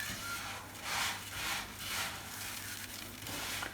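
Tlitli pasta coated with oil and rubbed by hand, soft rhythmic swishing strokes repeating about every half second, quiet and close.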